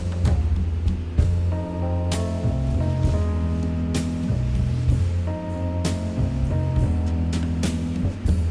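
Rain falls steadily outside, a continuous hiss heard from inside a vehicle under a low engine hum with occasional soft clicks.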